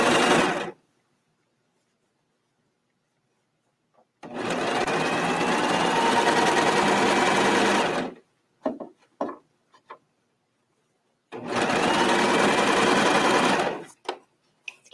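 A serger sewing machine gathers stiff fabric at a 2.5 stitch length in two long, loud, steady runs of whirring stitching, split by silence and a few short clicks.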